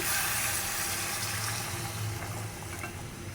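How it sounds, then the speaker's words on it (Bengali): Hot water poured into a pot of beef being cooked, a steady broadband splashing and faint sizzling that runs continuously for about three seconds, close and fairly quiet with no talking. "এটা গরম পানি দিতেছি, কারণ সিদ্ধ হতে লাগবেই।"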